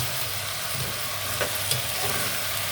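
Rice with vermicelli, salted, being stir-fried in a pot gives a continuous soft sizzle and crackle, with a couple of sharp little pops and clicks, close and alone without talk.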